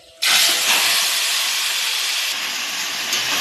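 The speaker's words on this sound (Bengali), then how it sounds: "এখন এই মাংসটা ঢেলে দেবো।" Meat poured into hot oil with crushed whole garam masala, bay leaf and cumin gives a sudden loud burst of sizzling that holds as a steady, bright crackling hiss, close and alone.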